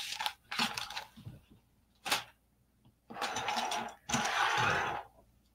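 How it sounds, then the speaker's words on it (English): Sewing machine stitching down the edge of a see-through vinyl zipper case, running in several loud bursts of whirring stitching separated by short pauses. "So now we're just going to do the same thing and sew right down this edge again."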